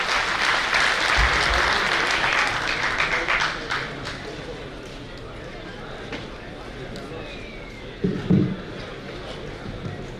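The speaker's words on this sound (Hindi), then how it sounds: "जोरदार ताली के साथ।" Audience at an Indian community event organised by a Navodaya alumni network breaks into loud, sustained applause that gradually fades and thins. A later brief burst of clapping follows, with speech faint in the background.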